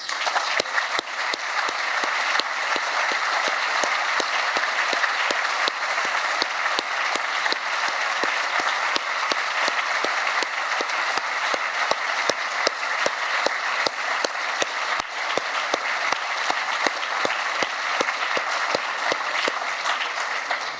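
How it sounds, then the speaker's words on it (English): Large audience at an architecture awards ceremony applauding the winners, a sustained, even roar of many hands clapping that holds steady for about twenty seconds. "can we have a final big round of applause to all the winners tonight, please?"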